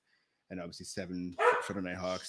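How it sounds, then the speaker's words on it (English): A dog barks and yips in the background during a sports podcast, short sharp calls mixed under and between a man's steady speech. "You can hear the dog in the background."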